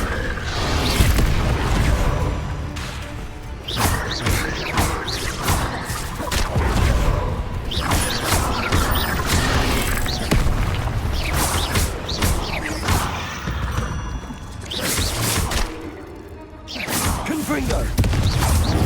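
Repeated Confringo blasting-spell explosions in Hogwarts Legacy, dense booms and crashes with whooshing bursts piling up over constant loud game noise, with a voice talking intermittently through the din.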